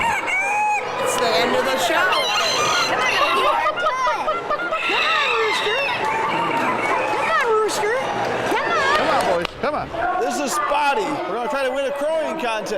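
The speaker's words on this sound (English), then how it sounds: "I've never seen so many roosters in all my life." Many roosters crowing at a fair's crowing contest, repeated overlapping cock-a-doodle-doos and clucks, loud and close, amid a busy crowd chattering throughout.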